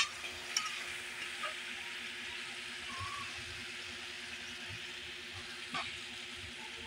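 Adobo with potatoes simmering in a pan after half a measure of water is poured in: a steady, soft bubbling sizzle with a few faint clinks of utensils, close but fairly quiet.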